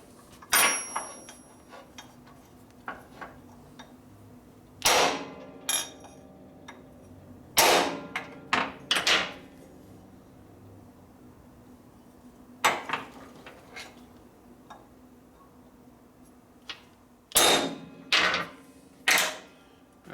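A dimple tool is struck with a hammer on a part from a 1967 Harley-Davidson shovelhead transmission rebuild, producing sharp metallic clanks in scattered single hits and quick clusters, close by in a quiet workshop.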